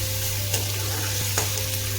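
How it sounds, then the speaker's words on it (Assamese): Onions sizzle and fry in a pan for a bread pakoda recipe, a steady close hiss with a couple of faint stirring scrapes and a constant low hum underneath. "পিঁয়াজখিনি মই অলপমান ভাজি ল'ম।"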